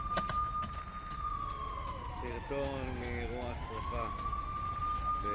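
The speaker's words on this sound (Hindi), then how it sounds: "इजराइल के कई शहरों में सायरन बज रहे हैं।" An air raid siren wails steadily in an Israeli city during an Iranian missile attack, its pitch sliding down then back up, heard from a distance over a noisy background with a voice briefly audible.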